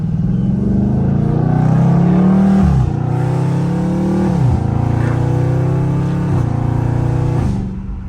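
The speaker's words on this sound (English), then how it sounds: "you just hear the motor really stretch out" A Dodge Scat Pack engine and exhaust pulls hard through the gears in traffic. A loud, close, rising roar drops sharply at each of three shifts and then climbs again.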